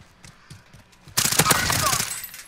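Video game gunfire starts abruptly after some soft tapping and continues as a dense, loud volley of rapid shots with crackling debris, while a voice talks faintly beneath it.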